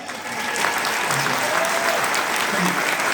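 Sustained clapping from a comedy festival crowd, dense and even throughout, with faint voices mixed in underneath.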